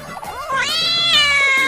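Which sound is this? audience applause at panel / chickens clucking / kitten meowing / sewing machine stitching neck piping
kitten meowing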